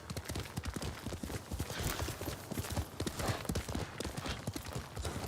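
Horse hooves clip-clopping at a steady gallop in Ghost of Tsushima, rhythmic and continuous, moderately loud and close with no voices over them.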